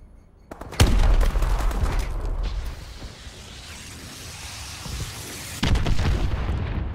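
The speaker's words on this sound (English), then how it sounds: "Friendly missile strikes incoming." Missile strikes and gunfire in Call of Duty: Advanced Warfare, a sharp heavy blast opening into a long rumbling roar that fades to a lower wash, then a second loud impact near the end.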